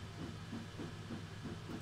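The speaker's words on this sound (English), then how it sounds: "they are basically the same chuff sounds as on the Black 5" Steady rhythmic chuffing from an LMS Stanier Mogul steam locomotive in Train Simulator 2020, even beats about every third of a second with a hissing background, moderately quiet and with no talk.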